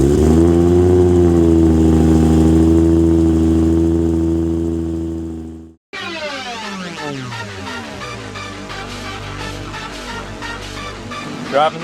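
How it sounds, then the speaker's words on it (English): Toyota Supra engine cold-starting, a loud steady high idle that holds for several seconds, cuts out briefly, then comes back with a rougher, lumpier rumble, close and with no voices. "Cold start with Supra."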